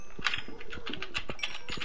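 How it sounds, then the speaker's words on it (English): Computer keyboard typing, a rapid run of light, close key clicks in an irregular rhythm, fairly quiet and alone. "I'm just doing my epic typing"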